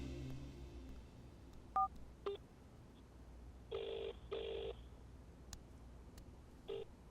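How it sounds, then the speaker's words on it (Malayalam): Telephone keypad tones beep in a short series as a number is dialed for a call, a few single presses followed by two longer tone bursts and a last brief one, fairly quiet with no talking. "ഞാൻ വിളിച്ചു തരാം"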